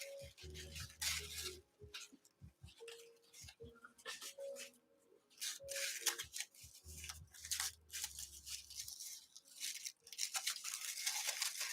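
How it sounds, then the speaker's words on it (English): Paper sewing pattern for a dress rustles and crinkles while being handled, in loud, close, irregular bursts of crackling separated by brief quieter gaps. "Sorry if the pattern paper is a little loud."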